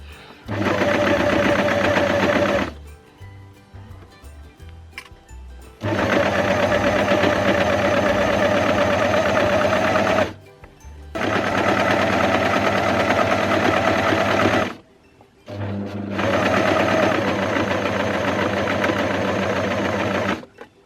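A home sewing machine stitches a stretch fabric pinafore in four loud, steady whirring runs, each several seconds long, separated by short pauses of quiet handling.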